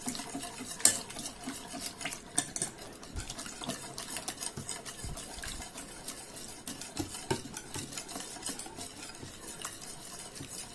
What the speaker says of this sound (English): Keep mixing till you get to that sort of stage, and then add a bit more milk.